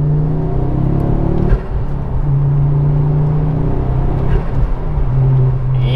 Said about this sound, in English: Car's running sweet.